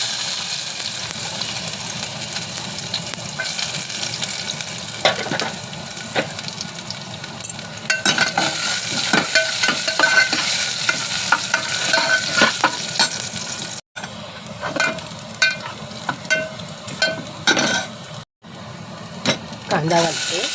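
Garlic and cumin fry in hot oil with a loud, steady sizzle and crackle, stirring clatter and spoon taps on the pan, while someone speaks over it.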